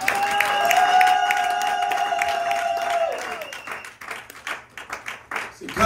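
Congregation clapping and cheering during a Sunday worship service in a church in Sherbrooke, Canada, a dense burst of applause over a sustained organ-like tone that fades, then scattered claps and voices.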